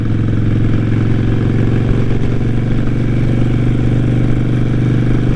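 A Harley motorcycle cruises on the freeway, its engine a loud, continuous low rumble with a steady throb and rushing wind, unbroken for the whole stretch, with no talking.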